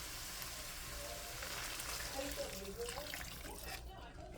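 Hot water is poured for cooking onion soup mix and rice, a steady soft splashing stream that runs continuously and fades at the end.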